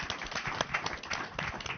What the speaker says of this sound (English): give a warm applause to the panel